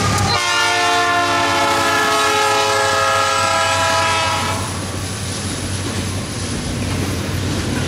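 A Norfolk Southern intermodal train led by a Canadian Pacific locomotive rumbles past close by, loud and steady, with a long sustained horn blast over the rolling wheels for the first half before the horn ends and the train noise continues.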